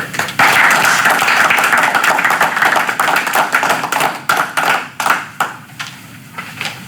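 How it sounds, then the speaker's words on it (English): Board members and audience at a Homer Township board meeting give a round of applause, dense clapping close by that holds steady for several seconds, then breaks into scattered claps and fades out. "I would like to ask the board to join me in a round of applause"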